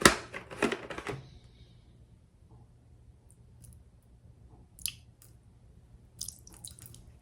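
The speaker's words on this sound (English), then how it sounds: "I'm gonna start by adding 3 tablespoons of bleach to my Dutch oven" Bleach is poured into an enameled cast iron Dutch oven, a brief close liquid splash and clatter at the start, then quiet with a few scattered clicks and knocks later.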